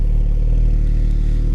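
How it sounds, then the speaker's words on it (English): A Porsche 718 Cayman GT4 sits idling with a steady, deep, pulsing exhaust burble, loud and close, unchanging throughout. "And with that exhaust note, my goodness, look how aggressive that diffuser is."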